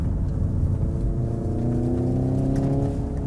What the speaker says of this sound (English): on the downshift, it'll rev match